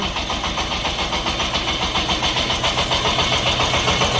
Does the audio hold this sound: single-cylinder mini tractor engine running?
yes